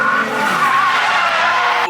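A car with a stock Toyota 7M-GE engine drifts, its tires letting out a loud, sustained skidding squeal for about two seconds before it cuts off abruptly.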